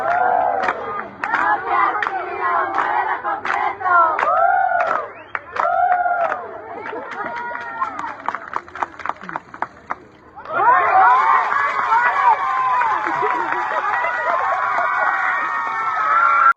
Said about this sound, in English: everyone is cheering him on